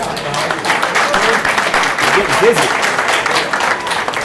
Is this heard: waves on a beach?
no